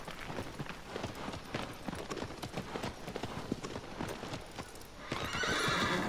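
A horse gallops across open ground in the video game Shadow of the Colossus, a rapid, steady clip-clop of hooves close by, with a rising rush of wind near the end and no talking.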